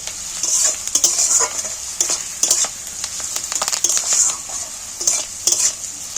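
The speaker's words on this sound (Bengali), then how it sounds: "ক্যারি পাতা আর পেঁয়াজ দুটোকে একসাথে ভেজে নিচ্ছি" Curry leaves and onion frying together in a pan: a loud, bright sizzle with repeated clinking stirs of a utensil against the pan, close up and without talk.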